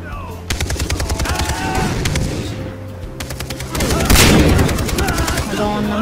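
Rapid automatic gunfire rattles in a co-op Far Cry 3 firefight, loud and close. Dense bursts repeat in quick succession with a few heavier blasts layered over the chatter of shots.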